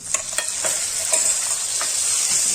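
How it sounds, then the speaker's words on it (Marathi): Grated corn, blended fine in a mixer, frying in a pan with a steady bright sizzle and repeated scraping stirs of a spoon, close and loud, no voices. "आता टाकूया आपला हा मक्याचा किस, जो आपण बारीक करून घेतला होता मिक्सरमधून, ते टाकून घ्यायचंय."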